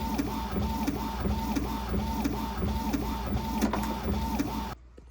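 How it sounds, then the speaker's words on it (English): A card printer runs steadily through a print job, its mechanism cycling in a regular repeating rhythm of whirs and clicks, close and continuous before stopping abruptly near the end. "I'm going to try to fix my printer settings and then try it again"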